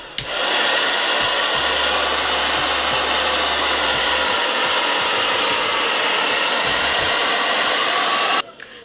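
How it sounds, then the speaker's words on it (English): A hair dryer is blowing on lace frontal wig glue to make it tacky. The loud, steady airy roar runs close and unbroken for about eight seconds, then cuts off abruptly, with no talk over it. "so I'm going to blow dry it to get it a little tacky."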